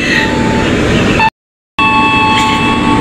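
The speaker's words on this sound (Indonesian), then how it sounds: "Sebentar lagi kereta api Argo Merbabunya akan diberangkatkan." Loud, steady rail rumble with a tonal whine from the Argo Merbabu passenger train departing Semarang, cut by a brief total silence, then the rolling train noise resumes.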